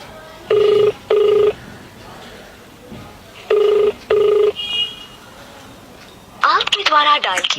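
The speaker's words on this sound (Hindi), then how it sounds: "बेल जा रही।" Ringback tone heard while calling out from a Jio feature phone, in two pairs of steady double beeps spaced a few seconds apart, moderately loud, followed by a burst of tonal phone audio at the end.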